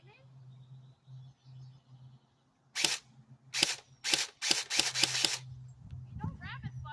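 Several sharp airsoft gun shots crack close by, a lone shot followed by a quick burst of rapid pops, with people talking low underneath before and after.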